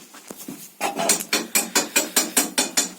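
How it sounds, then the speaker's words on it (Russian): An impact wrench hammers off the wheel nuts of a Mitsubishi Lancer IX in a rapid, even series of sharp metallic rattling bursts after a short quieter start. "решено открутить по-быстрому колесо пистолетом, гайковертом"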